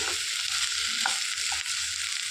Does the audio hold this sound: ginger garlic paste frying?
yes